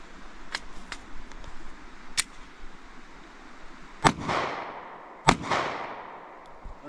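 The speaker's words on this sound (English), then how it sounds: "we're gonna be shooting the Gold Dot G2, and we'll be shooting it out of the Glock 45 9mm." Several sharp gunshots from a Glock 45 9mm pistol firing Gold Dot G2 rounds into drywall. Scattered cracks come first, then two loud close reports with ringing echo tails.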